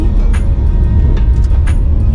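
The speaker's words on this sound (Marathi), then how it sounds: "धुक्यातनं समोरनं गाडी येते." A car approaching through fog on a village road, its engine rumbling steadily and loudly at low pitch, with wind-like road noise throughout.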